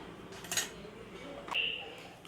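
A spoon stirs thick coconut rice jaggery kali in a pot, giving a few faint, separate metallic clinks and scrapes against the vessel in a quiet kitchen.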